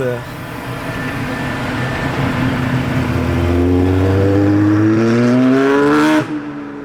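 A black Ferrari Roma coupe revs hard nearby on a Maranello street. Its engine note climbs in pitch over several seconds to a loud peak, then drops away abruptly.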